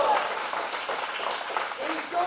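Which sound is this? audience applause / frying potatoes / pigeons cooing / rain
audience applause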